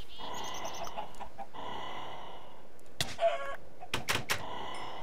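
Chickens cluck in Minecraft near a pen being built, with a few scattered clucks over a steady background hiss and several sharp clicks toward the end.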